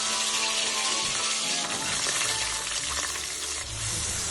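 Diced onion, carrot and celery fry in a pot used earlier for browning beef shanks, giving a steady, close, dense sizzle with light stirring and no voices.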